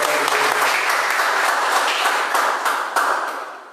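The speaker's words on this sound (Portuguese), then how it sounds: "a linda salva de palmas para Jesus" Congregation applauding at a Father's Day youth church service, a dense, steady wash of many hands clapping that fades slightly toward the end, with faint voices underneath.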